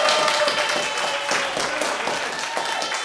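A small crowd in the public gallery of a council meeting breaks into steady applause, a dense, continuous wash of clapping that fills the room and fades slightly toward the end.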